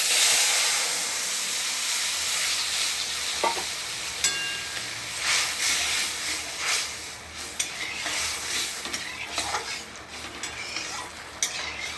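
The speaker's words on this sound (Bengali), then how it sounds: "ভাজা তেলেই ডালটা ফোড়ন দিয়ে দেবো, 5 ফোড়ন দিয়েছি, শুকনো লঙ্কা ফোড়ন দিয়েছি" Dal tempered in hot frying oil with five-spice and dried red chilli gives a loud, steady close sizzle and hiss, with occasional stirring scrapes and spatters easing into quieter crackling.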